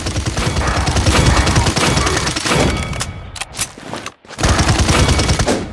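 Rapid bursts of blasts from the Barrage ability in the game Paladins fire almost continuously, loud and dense, with a brief lull and a sharp drop before the barrage resumes at full intensity.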